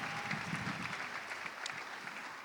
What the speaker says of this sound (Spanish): Dar otro aplauso a Dios